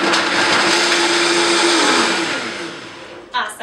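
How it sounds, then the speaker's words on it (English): A Vitamix blender blends a chai smoothie on a preset setting, a loud steady whirring roar that slowly winds down, with a clunk at the end. "The wonderful thing about the Vitamix is that it has these pre-set settings, I guess if you will, and so you can just let it go and do its thing."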